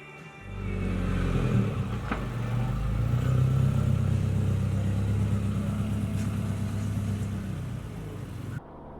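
A 180SX car cruising a mountain road near Lake Towada in Iwate, Japan, its engine a steady, droning hum heard from inside that swells slightly and holds for several seconds.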